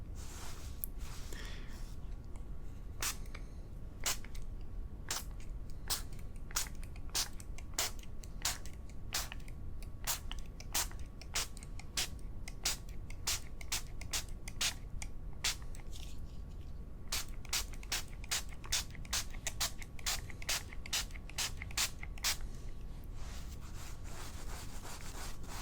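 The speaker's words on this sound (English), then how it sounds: "I'm just gonna gently spritz it onto your hair" A spray bottle spritzes water onto hair in a long run of quick, sharp hissing bursts, some closely spaced and some spread out, close and fairly loud over a steady soft background.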